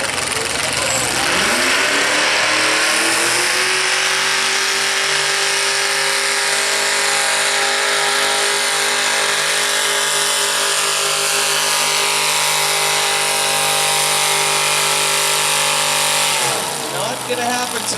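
The engine of a modified mini tractor, the Twisted Sister, roars through a run at a night tractor pull on the prairies. It climbs to a loud, steady, sustained drone for about fifteen seconds, then drops off near the end while an announcer talks over it.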